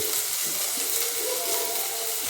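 Wheat kurdai frying in hot oil, a steady broadband sizzle with fine crackling that holds evenly throughout, close and moderately loud, with no voices.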